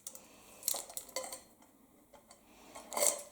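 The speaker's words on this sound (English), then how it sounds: "What's in the tin that's making noise?" Small metal objects rattling inside a tin as it is shaken, quiet and close, with a few scattered bursts of clinking separated by brief pauses.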